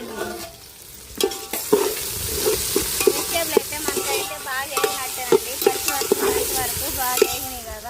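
Vegetables sizzle as they fry with pulao spices, a steady frying hiss punctuated by regular stirring and scraping strokes against the pan, close and moderately loud.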